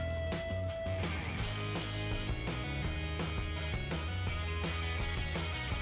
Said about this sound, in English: You can also turn this motor on by putting the sensor onto upward side.